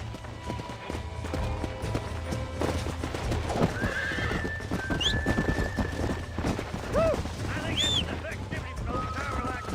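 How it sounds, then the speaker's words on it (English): Horse in the Red Dead Redemption video game whinnying in several sharp, rising calls over steady hoof clip-clop and running, with someone speaking at times and a low rumbling backdrop. "Cavalo enjoado, hein?"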